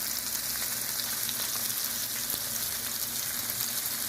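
Salmon steaks fry in hot grapeseed oil in a pan, giving a loud, steady, close-up sizzle with a fine crackling hiss that never lets up, and no voices.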